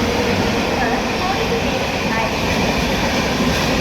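Steady broadband rumble and rolling noise of a train in Chennai, loud and continuous throughout, with voices present in the background.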